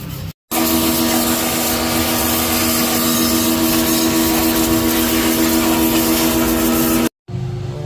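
Brass wire brush scrubbing carbon dirt off a Toyota Innova D-4D EGR valve, loud continuous scraping rasp with a steady tonal whine, starting and stopping abruptly, no talking.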